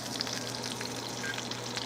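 Cajun-seasoned steak blackens in a hot pan, giving a continuous close sizzle with bright spitting crackles and a low steady hum beneath, no one speaking.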